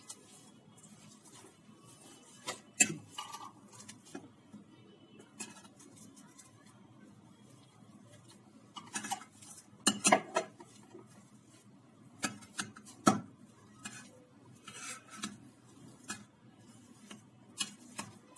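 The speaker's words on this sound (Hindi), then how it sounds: "तो इसको मैं पहले मैश कर देती हूँ" Potatoes are mashed in a bowl, giving quiet, irregular soft knocks and squishy taps that come in scattered clusters with pauses between them.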